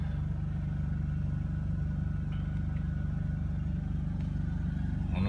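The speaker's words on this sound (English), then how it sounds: "Generator's running. We got power now." An RV generator on a Winnebago Rialta runs with a steady, low mechanical hum at moderate level, unchanging over a few seconds with no talk.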